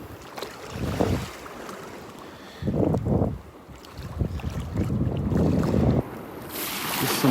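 Ocean waves wash in and out along a sandy beach at Delnor-Wiggins, with irregular surges of surf and heavy wind buffeting the microphone, loud rushing swells rising and falling without speech.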